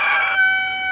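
A rooster crows once, close and loud, the call holding a bright sustained tone before trailing off.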